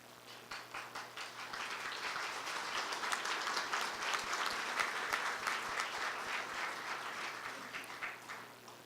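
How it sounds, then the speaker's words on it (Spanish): Sustained audience applause for a speaker at a lecture, starting as scattered claps and building into a full, even round of clapping from a crowd before tapering slightly at the end. "Mil gracias por el aplauso."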